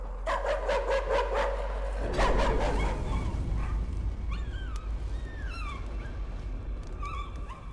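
A ghost dog in the Layers of Fear video game barks in a quick rhythmic run, then breaks into high whimpers and whines over a low, steady hum.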